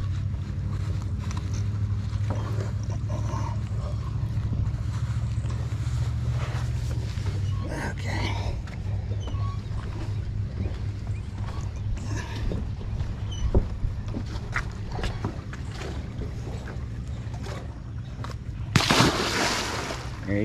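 An alligator gar caught on a Shakespeare Tiger combo is let go back into the water: a steady drone of boat and water noise runs throughout, with scattered sloshes and a brief louder splash near the end.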